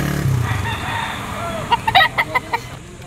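A rooster at a chicken auction market crows and clucks close by, a burst of loud, choppy calls in the second half after a quieter stretch of crowd murmur and background noise.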